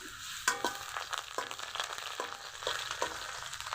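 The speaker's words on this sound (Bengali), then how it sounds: "রসুনটা খুব ভালো করে ভেজে নিতে হবে" Garlic, dried red chillies and panch phoron frying in foaming mustard oil, a close bubbling sizzle cut by repeated sharp clinks and scrapes of a spoon stirring the pan at an uneven rhythm.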